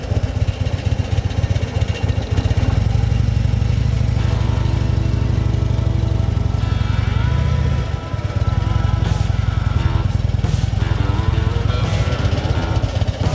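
A motorcycle engine running steadily at low revs through a slow, tight U-turn practice run, with a brief dip in throttle midway before the motor picks back up, close and continuous.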